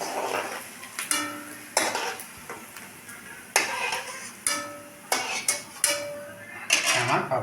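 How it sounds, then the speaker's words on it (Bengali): Homemade rice papad fries in a pan, with a continuous oily sizzle broken by repeated sharp metallic clinks and scrapes of a utensil against the pan. "দেখো কত তাড়াতাড়ি এটা ভাজা হয়ে যাচ্ছে।"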